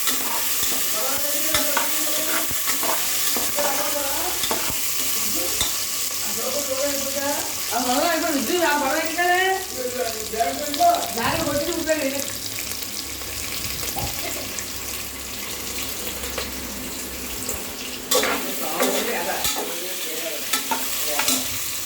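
Kichidi with peas is stirred in a frying pan, with repeated scraping strokes over a constant sizzle. A voice sounds faintly through the middle stretch.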